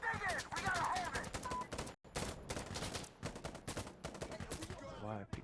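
An M16 fires in the online shooter Insurgency Sandstorm, with rapid automatic bursts of gunfire close by and sharp cracks that nearly fill the moment, as a player talks over them.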